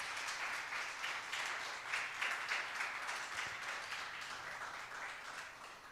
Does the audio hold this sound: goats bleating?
no